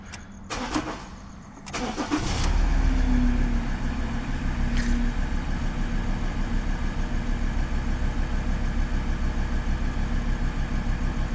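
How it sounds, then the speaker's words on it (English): A Ford Ranger 3.2 diesel cranks briefly and fires up, then settles into a steady, close, even idle with a rhythmic low clatter, and no one speaks. "I've left the accessories on for a good solid probably 15 seconds, and I'm going to give it a start."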